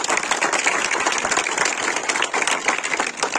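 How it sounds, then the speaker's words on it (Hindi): Loud, dense applause from an audience cheering successful students newly selected as Bihar police sub-inspectors, steady clapping throughout with no talking over it. "इनका जोरदार तालियां"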